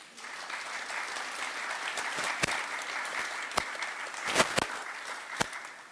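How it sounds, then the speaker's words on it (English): A round of applause at the Cayman National Cultural Foundation awards ceremony, a steady wash of clapping from a seated audience lasting several seconds, with a few sharper louder claps standing out near the end. "tonight we recognize and applaud them with a round of applause"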